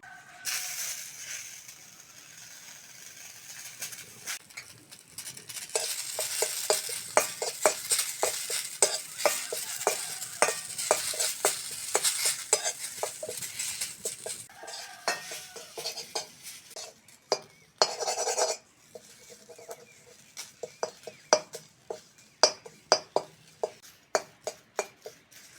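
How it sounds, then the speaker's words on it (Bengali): Neem leaves frying in a wok, a spatula clattering and scraping in rapid repeated strokes over a crackling sizzle, close and fairly loud, with a brief burst of louder frying midway and no voices. "ওই কড়ার মধ্যে নিম পাতাগুলো ভেজে নেব।"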